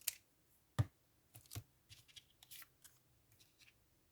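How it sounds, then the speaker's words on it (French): Scissors cutting out a small paper sticker embellishment for a journal, a few quiet, irregular snips and paper rustles close by. "On va découper ça."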